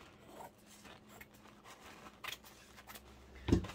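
Paper ephemera for a junk journal is being cut, with faint scattered snips and rustles leading to one sharper, louder cut near the end, alone without talk.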